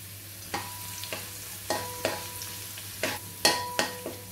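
Green bean pieces fry in a pan, a soft steady sizzle broken by about eight sharp spatula scrapes and clacks against the metal as they are stirred.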